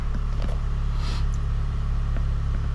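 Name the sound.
Hyundai Veloster 2.0 engine idling after spark plug change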